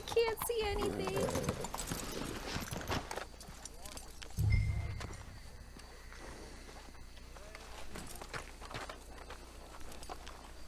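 Horses' hooves clip-clopping on a path in the Red Dead Redemption 2 video game, a soft rhythmic patter of steps, fairly faint, mixed with game ambience while a person talks over it.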